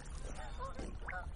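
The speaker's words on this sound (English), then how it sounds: "Come the birdies, geese." Several geese honk nearby in short nasal calls over a steady rumble of wind on a lake.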